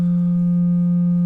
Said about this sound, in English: So the sine wave is actually very nice for certain things.